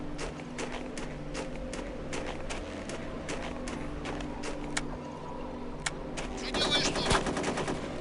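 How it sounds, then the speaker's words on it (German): Rapid bursts of enemy gunfire in the video game Chaser, sharp repeated shots over a steady low game hum, growing denser and louder near the end. "Der schießt schon bevor er mich sieht."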